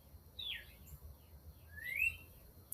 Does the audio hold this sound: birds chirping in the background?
yes